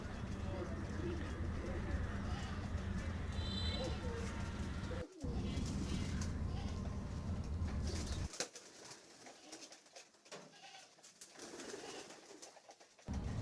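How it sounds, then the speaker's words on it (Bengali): Around thirty pet pigeons in a loft coo steadily at close range, with a brief flutter of wings partway through. Someone talks over the birds. "প্রায় এখানে 30 পিসের মতো কবুতর আছে"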